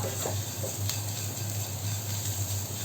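Chopped ivy gourd fries and is stirred in a pan for a Kerala mezhukkupuratti, with a close, steady sizzle and scraping stirring strokes over a low hum.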